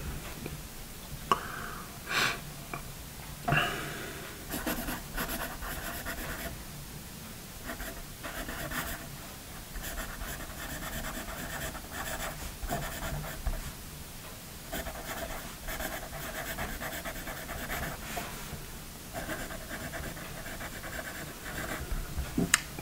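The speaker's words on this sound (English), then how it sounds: "It really is a very nice writing pencil." A Paper Mate Mirado triangular pencil with a soft core writes on paper in quiet, continuous scratchy strokes, with brief pauses and small taps between words, alone and close.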